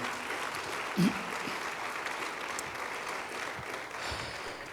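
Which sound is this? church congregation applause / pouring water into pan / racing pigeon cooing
church congregation applause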